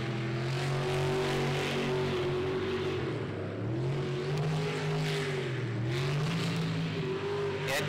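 A race car in a pro racing series accelerates and feathers the throttle into corners. The engine's loud, steady drone rises and dips in pitch as the throttle is lifted and reapplied several times.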